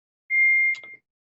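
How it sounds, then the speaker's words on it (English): One loud, close electronic beep from a smoke alarm, a steady tone lasting about half a second and ending in a short clicky stutter, then silence. "The fire alarm's going off, boys. Smoke alarm."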